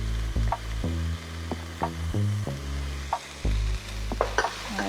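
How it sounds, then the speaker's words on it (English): Garlic added on top of vegetables frying in a pan for a three-meat spaghetti sauce, with a steady close sizzle broken by repeated scraping stirs and light utensil knocks against the pan. "We're going to add the garlic to cook with it."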